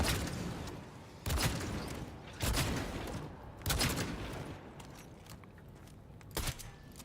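Gunfire in Cyberpunk 2077 during a firefight: four loud, sharp bursts spaced about a second apart, each followed by a short rumbling decay over steady ambient game noise.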